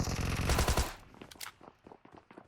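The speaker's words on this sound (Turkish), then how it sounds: "İki mermi atıyorum bayılıyorlar" Gunfire in the mobile battle-royale game PUBG Mobile: a loud rapid automatic burst up front, followed by quieter scattered shots and clicks.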